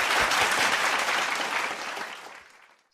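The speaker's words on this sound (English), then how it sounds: "Let's give her a big round of applause." An audience at a morning devotion service breaks into applause, a dense wash of clapping that starts full and gradually thins and fades out over a few seconds.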